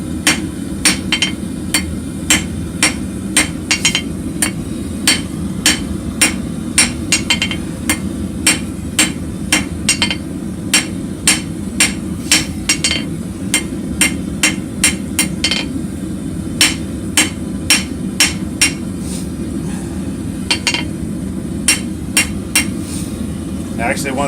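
A blacksmith hammers the point of a taper on an anvil in a beginner forging project. The sharp, ringing strikes come close and loud in a steady, repeated rhythm over a constant low background rumble.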